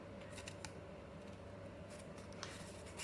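Scissors cutting paper into a smaller piece for a papier-mâché hippo's head, with several soft snips spaced across a quiet, close-up background hum.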